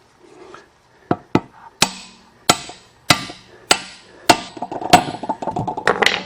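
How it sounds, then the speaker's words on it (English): Hammer tapping a wheel bearing into a tractor wheel through an installation tool: about nine sharp metallic strikes, spaced unevenly at first and then quickening into a rapid run of blows, close and loud with no talking. "And start whacking. Have to tap it evenly to get it down square."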